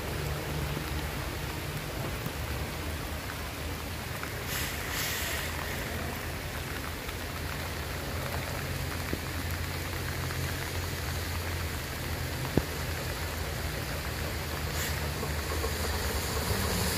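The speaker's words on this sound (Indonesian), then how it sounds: "Saat ini hujan cukup lumayan deras ya" Heavy rain pours steadily and loudly around a stopped Isuzu truck, a dense unbroken hiss throughout with no voices.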